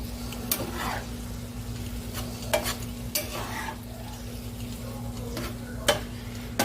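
Sloppy joe mixture simmers in a cast iron pan while a utensil scrapes through it in scattered strokes over a steady low hum, with no talking.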